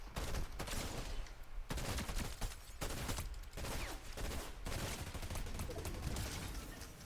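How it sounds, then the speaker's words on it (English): Enemy gunfire in a video game, rapid and continuous, with shots packed closely together for several seconds, heard quietly and at some distance. "That's a person shooting at me."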